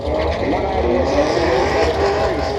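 Drag racing cars at a street meet launch from the start line with a loud, sustained engine roar filling the whole stretch.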